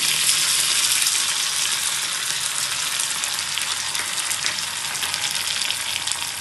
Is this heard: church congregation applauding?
no